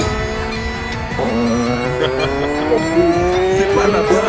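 A car driven in the Roblox video game gives a steady engine whine that climbs in pitch as it accelerates, loud and close for a few seconds.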